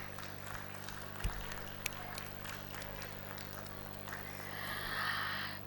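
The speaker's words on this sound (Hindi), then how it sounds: "तालियां रुकनी नहीं चाहिए।" Scattered audience clapping at a publication house award ceremony held at the New Delhi World Book Fair, fairly faint and sparse, with a steady hum underneath and a rise in noise near the end.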